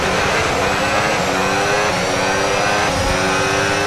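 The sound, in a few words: F1 racing car engine revving in F1 video game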